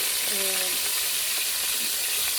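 Garlic fries for saag with chili powder, turmeric and salt in hot oil, a close, steady crackling sizzle, with a brief voice at the start.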